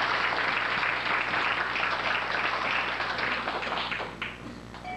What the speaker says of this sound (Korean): 박수 한번 다시 한번.